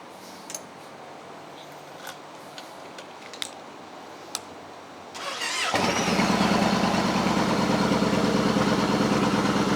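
A Yamaha Roadliner XV1900 motorcycle with about 9,000 miles sits quietly with faint clicks, then the engine cranks and starts, settling into a loud, steady, low idle rumble that carries on to the end.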